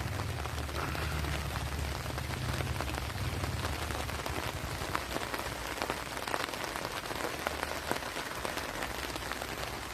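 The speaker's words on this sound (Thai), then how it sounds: "ฝนตกครับ หนักมากด้วย" Heavy rain pours steadily at a campsite in Dan Chang, Suphanburi, Thailand, a dense continuous patter of drops hitting surfaces nearby, with no voices.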